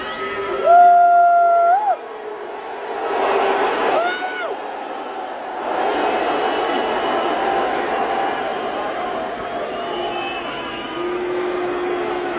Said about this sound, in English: all those people are booing